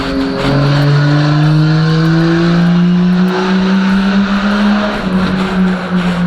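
A Box Chevy car engine hums steadily with a rising pitch that drops and climbs again as gears change, suggesting a manual gearbox, loud and close with no talking.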